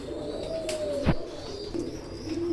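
Low, soft cooing from Omani teddy pigeons close by, a throaty warbling call with a brief tap partway through.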